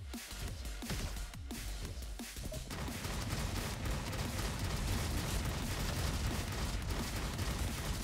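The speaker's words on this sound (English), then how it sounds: "Oh, those are my turrets." Automated turrets in the Roboquest first-person shooter fire a dense, continuous barrage of rapid shots, loud and sustained after a few scattered opening bursts.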